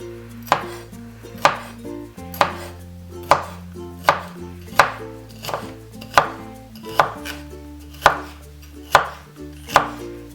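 A vegetable being chopped on a cutting board for chicken and mushroom miso soup, a dozen sharp knife strikes at a steady, unhurried rhythm, close and clear, with no talking.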